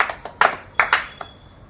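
A handful of contestants on a talent show finale clap for themselves: a few sharp, scattered hand claps close by, uneven and sparse, fading out within two seconds.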